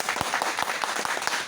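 A roomful of people clapping steadily in a communication skills class, dense even applause close by, no talk over it.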